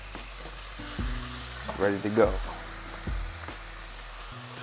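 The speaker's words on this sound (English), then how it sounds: "Hear that sizzle?" Food sizzles and crackles in a hot pan with a few clanks of a utensil, while someone speaks briefly over it.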